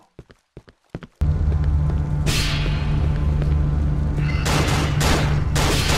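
Gunfire in the horror video game Cry of Fear: a few sharp separate cracks open, then a loud steady rumbling din takes over with bursts of noise layered on top.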